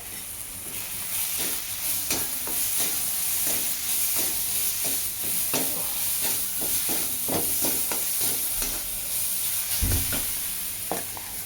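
Mashed fried eggplant with turmeric and salt is sautéed in a pan: a constant sizzle under repeated spatula scrapes and taps, with one heavier knock near the end, close by and with no talking.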